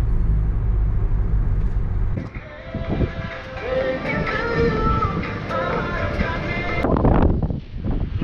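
Strong gusty south wind in a morning storm buffets close and loud with rushing gusts and microphone rumble, while someone talks over it.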